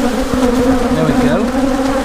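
Honey bees buzz in a dense, continuous hum while a hive is being split and nurse bees are added, a steady close drone with shifting pitches throughout.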